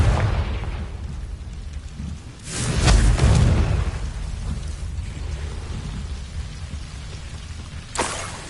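A Confringo blasting spell in Hogwarts Legacy bursts into a crackling, rushing explosion over a constant rumbling ambience, followed later by a second sharp crack.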